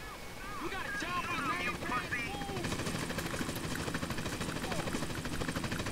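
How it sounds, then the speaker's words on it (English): A helicopter flies overhead in the video game GTA San Andreas, its rotor rumble sustained and steady, with brief warbling tones layered over it early on. "That fucking chopper."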